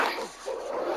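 A dog in The Sims 4 gives a loud, close bark with a whining, yipping edge, drawn out over about a second.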